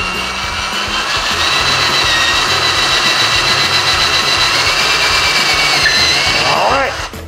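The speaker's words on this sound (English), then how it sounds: "let's go down the line and drill every hole" A power tool whines continuously and loudly while drilling a row of holes in a workshop, a steady high-pitched drone lasting the whole clip and ending as it winds down.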